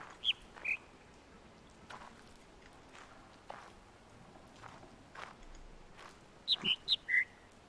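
Bird song in the game The Witness: a couple of short bright chirps at the start, then a quiet stretch of soft footsteps, and a quick cluster of four whistled notes near the end.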